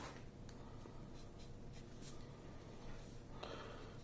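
A graphite pencil scratches faintly across paper in short, soft strokes, laying down light gray shading for the fur of an animal drawing, with a few brief rustles between passes.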